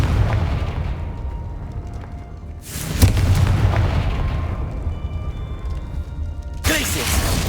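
Confringo fire spell explosion in the Hogwarts Legacy video game, heard as two sudden loud bursts a few seconds apart over a dense, continuous game soundscape.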